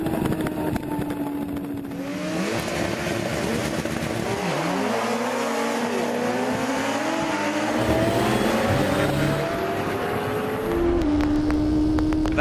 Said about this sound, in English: here's what it feels like being strapped to an HP4 during a soaking wet practice run